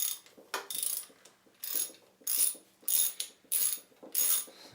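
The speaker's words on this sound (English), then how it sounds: "Right now I'm taking off the starter motor." Ratcheting wrench clicks in short repeated bursts while the starter motor is unbolted from a 1976 Honda CB550K motorcycle, close and fairly quiet, with brief pauses between strokes.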